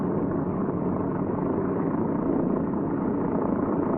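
A C-47 aircraft's piston engine runs steadily after starting, a loud continuous droning rumble with no breaks, heard alone at close range.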